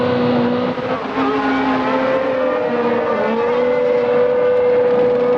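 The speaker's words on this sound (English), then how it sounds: "we're on board with Martin Brundle coming in for another tyre stop" A 1992 Formula One car at the Japanese Grand Prix, heard on board as it comes into the pits for a tyre stop, its engine holding a steady loud high whine throughout with a brief dip partway through.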